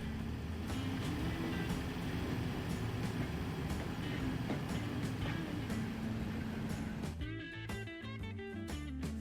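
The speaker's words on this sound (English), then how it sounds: "We should probably take a look at this train as it comes out." In the video game Transport Fever, a train passes on a bridge line with a steady rumbling roll and rhythmic clicks, then tones shift sharply near the end, with no talk.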